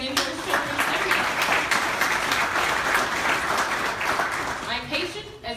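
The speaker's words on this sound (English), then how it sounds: "let's give a round of applause for him" Audience applause at a hospital foundation raffle event, sustained dense clapping from a crowd lasting several seconds, loud and steady before tapering off.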